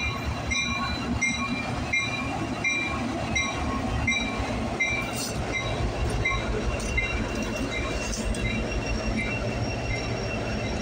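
A CN freight train rolls slowly past Brantford VIA station, its wagons rumbling steadily close by with a faint rhythmic clack of wheels and occasional high wheel squeals as it slows.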